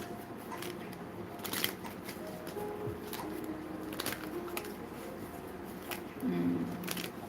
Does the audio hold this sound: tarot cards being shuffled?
yes